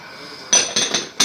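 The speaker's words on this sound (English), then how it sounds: "And now we're gonna put this in the oven." A dish slid into a home oven while cooking a quick Thanksgiving dinner, with a few sharp metallic clanks and clinks of rack and cookware, close and fairly loud, in quick irregular succession.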